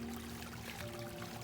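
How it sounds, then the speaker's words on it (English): Small waterfall in a tiny creek in North Carolina, a steady rushing pour of water with constant broadband noise and no pauses, close and fairly quiet throughout. "you can hear this waterfall"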